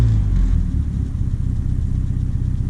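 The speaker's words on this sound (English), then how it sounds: "So now if I give it a rev in neutral" A 1978 Triumph Spitfire engine revved in neutral, a brief swell of loud close exhaust rumble that settles back into a steady, lumpy idle.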